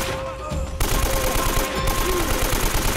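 Rapid bursts of assault rifle fire from the video game Uncharted: Drake's Fortune, loud and continuous, rattling in quick succession with a brief lull near the start.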